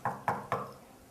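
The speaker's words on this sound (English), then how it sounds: "So he knocked on the door" Three quick knocks on a wooden door as a story sound effect, evenly spaced and crisp, the last one fading out into quiet.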